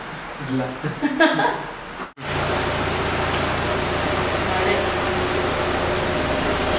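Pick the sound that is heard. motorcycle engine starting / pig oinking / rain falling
rain falling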